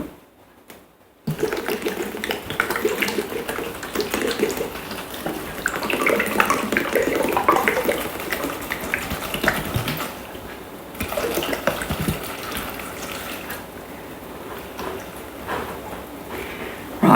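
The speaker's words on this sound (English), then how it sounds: "720 grams of water." About 720 grams of water pours into a Thermomix bowl for mushroom risotto, a steady close splashing and gurgling stream that runs for several seconds, pauses, then resumes more faintly.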